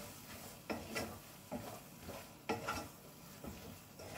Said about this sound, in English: Mix everything and cook with the spices about 2 to 3 minutes.